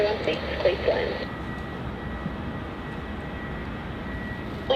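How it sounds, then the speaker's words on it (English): A Virgin Australia jet takes off in heavy rain at Melbourne Airport, a broad, steady engine roar under rainfall, with a brief radio-like voice at the start. "we do have a Virgin Australia takeoff"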